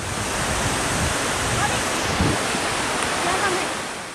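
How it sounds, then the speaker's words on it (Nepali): The Birekhola waterfall, about 150 metres long, in Bajura, flows with a steady broad rushing roar, close and continuous. "करिब 150 मिटर लामो दूरीबाट बग्ने बिरेखोला झरना"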